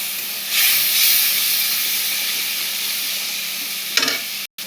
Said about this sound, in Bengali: একটু নাড়াচাড়া করে নিলাম, ভেজে নিলাম চালটা।